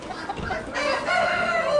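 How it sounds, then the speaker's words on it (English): Black Star hens clucking at an Amish animal auction, a brief burst of overlapping clucks and calls close by amid barn crowd noise. "Black star hens."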